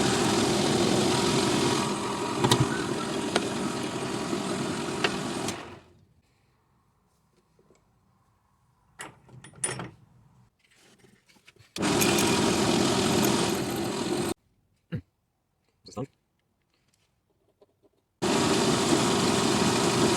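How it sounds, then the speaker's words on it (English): A metal lathe turning small boiler fittings for a traction engine build runs with a steady, dense machine whir, cuts off, then starts again in separate bursts, with quiet tool clinks and handling noises during the pauses. "I'm going to set the lathe up now and start making these"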